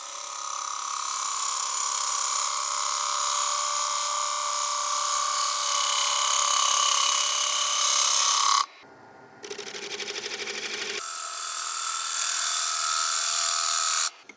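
A wood lathe spins a giant silky oak bowl at 760 RPM while a gouge cuts, a steady loud scraping hiss that drops out briefly to the motor hum, then resumes and stops.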